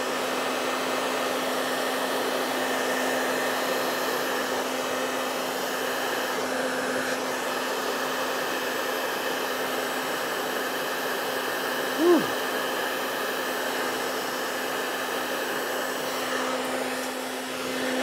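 A heat gun or hair dryer blows steadily close by, warming window tint film from the inside. A continuous whirring roar holds level throughout, with one brief squeak near the middle.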